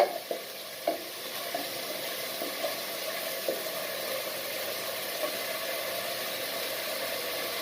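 Onions fry in oil in a pan for a hilsa fish curry with taro, giving a quiet, steady sizzle. Several soft spatula knocks and stirs come early, then the sizzle continues evenly.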